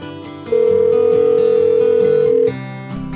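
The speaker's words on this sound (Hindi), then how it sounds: "ठीक है मम्मी मैं अभी फोन करता हूँ।" A telephone dial tone sounds as one loud, unbroken steady pitch for about two seconds during a call, sitting over soft background music in a Hindi family short film.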